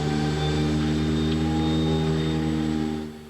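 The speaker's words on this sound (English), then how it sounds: "we will now pull the engines back again and relight that" An Avro Andover turboprop engine hums loudly and steadily in flight during a relight exercise, a droning tone with strong layered harmonics and a faint high whine, fading somewhat in the last moments.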